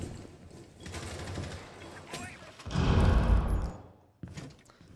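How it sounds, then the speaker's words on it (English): Gunfire in Rainbow Six Siege shot through a doorway, a quick burst of loud close rapid shots lasting about a second, preceded by softer game noise and followed by a lone thud. "Some pre-fire shots through the doorway."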